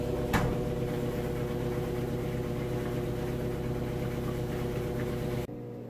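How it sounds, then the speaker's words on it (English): A Whirlpool washing machine loaded with heavy jeans and towels hums steadily as it begins its final low spin, giving an even motor drone with a faint knock near the start before it cuts off abruptly. "we moved into the final spin. Now this machine's going to spin these clothes out 3 times. Starts with a low spin"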